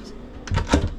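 Storage drawers under the bed steps of a new Swift Kon Tiki 884 motorhome being pulled open, giving a couple of quick wooden knocks and slides close by over a quiet background.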